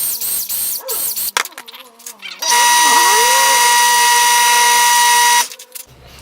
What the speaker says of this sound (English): let's sand off the face here just a little bit to get off the rough edges